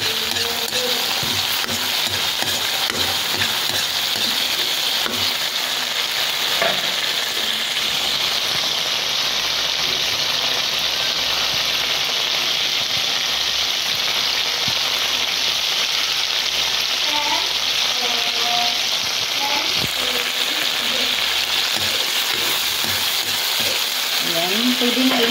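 Sautéed bottle gourd with sardines is stirred in a pan, giving a steady sizzling fry with soft scraping strokes that continue without a break and with no talk over them.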